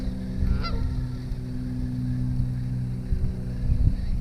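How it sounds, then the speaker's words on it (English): A goose honks a couple of times at a bass-fishing pond over steady low engine and wind rumble, the calls fairly close and brief. "I hate geese, bro."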